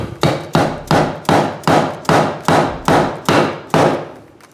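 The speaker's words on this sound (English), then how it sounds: "we'll get the rubber hammer all tapping back in" Rubber hammer tapping a jetsurf impeller back into its jet pump housing: nine firm, evenly spaced blows with short ringing decays, close and loud, no talking.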